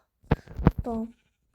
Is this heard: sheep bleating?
yes